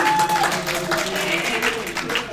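A live convention audience applauds to vote for a comic book villain, dense clapping and cheering filling the room at steady volume.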